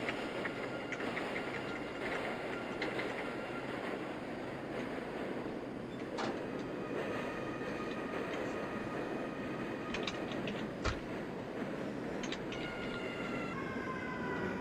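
NYC subway C local train bound for Euclid Avenue, a steady loud rumble of the running train throughout with high screeching and whining tones rising toward the end, no talk.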